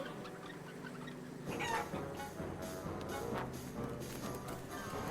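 Chickens cluck and squawk in the Wallace & Gromit video game, a busy, continuous flurry of fowl calls over game background noise, moderately quiet.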